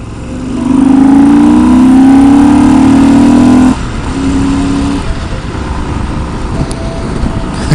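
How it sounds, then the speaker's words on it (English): A BMW motorcycle with a sidecar roars past nearby at a race, its engine loud and steady for a few seconds before dropping away into quieter background engine noise. "A BMW sidecar, that's fucking badass."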